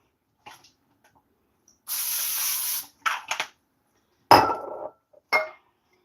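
Short bursts of aerosol cooking spray hissing close by, one longer spray followed by several quick ones, with small clicks and clinks between.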